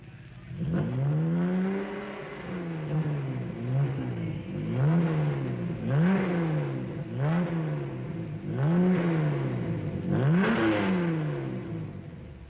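A 1961 Jaguar car engine revving during final tuning in a factory service bay, rising and falling in repeated revs about every second or two, loud and close with no talk.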